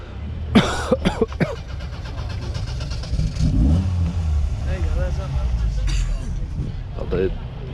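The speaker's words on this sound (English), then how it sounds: "very nice Lotus there, starting to move off" A classic Lotus sports car pulls away at an outdoor classic car meet, its engine revving and rising as it moves off, with people talking nearby and other cars audible in the background.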